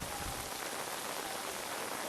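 Heavy rain pours steadily onto a surface, a dense, continuous hiss of drops filling the whole stretch with no voices.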